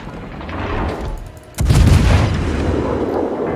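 Naval guns firing German HE shells in World of Warships, a sustained rumble broken by a brief dip, then a heavy booming salvo that sets off a loud, lingering roar.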